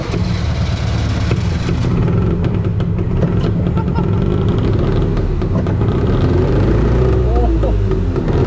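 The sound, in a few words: 2-stroke kei car engine driving and shifting gears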